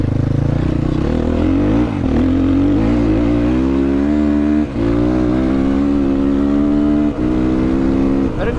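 A Motopro 300 motorcycle engine revs up loud and close through the gears, pitch climbing in steps, with brief dips at each gear change.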